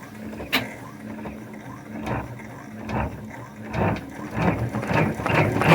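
An embroidery machine runs a tack-down stitch through tan marine vinyl on a hooded towel, a close mechanical whir with rhythmic needle ticks that builds in speed and density over several seconds.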